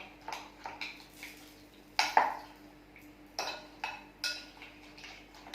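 A spoon mixes paneer into pakoda batter in a bowl, making a series of light clinks and taps against the bowl in an uneven rhythm, close and fairly quiet, with one louder knock.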